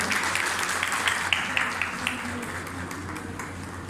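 An audience at a ceremony for self-help group funding applauds, a steady dense patter of many hands clapping from start to end that slowly fades.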